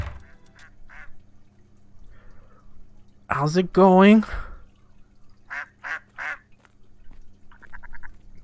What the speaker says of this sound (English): pet geese, or is it a goose, or whatever you want, we have one.